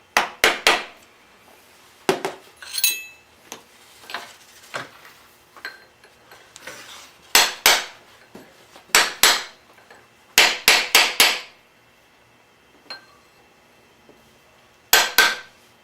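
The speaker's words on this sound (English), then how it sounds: "So what we got to do is get these tabs back flat using a precision tool." Precision tool tapping down the tabs of a bent tab washer on a motorcycle countershaft sprocket, sharp metallic taps in quick clusters of two to four with pauses between, close and loud, no talking.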